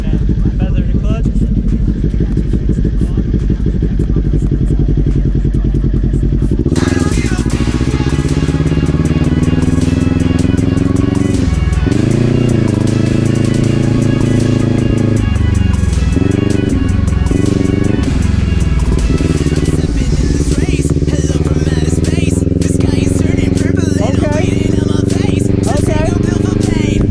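Kawasaki Ninja 400 motorcycle engine running steadily nearby, with pitch dips and rises as gears shift up and down and the clutch is worked, while people talk throughout.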